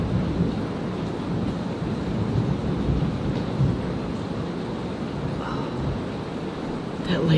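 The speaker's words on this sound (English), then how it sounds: "Hear that thunder rumble?" Low rolling thunder rumbles steadily through a storm on a day of tornado warnings and flooding, a continuous deep roar filling the whole stretch with faint rain texture and no clear speech.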